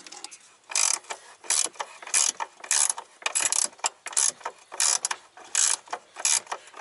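Ratcheting wrenches bought on clearance, turned in repeated bursts while installing Airlift 3P air suspension on a 2011 Audi Avant, giving close, loud clicking runs with short pauses between strokes.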